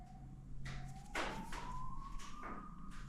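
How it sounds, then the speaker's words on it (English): A faint police siren wails down the road, its tone slowly rising, while nearby thumps and taps come and go in the foreground. "That sounded like sirens down the road, like police sirens."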